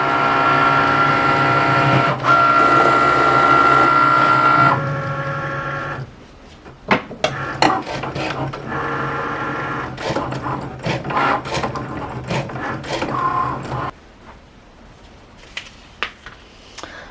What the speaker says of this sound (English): And now we press that, and this will start to cut.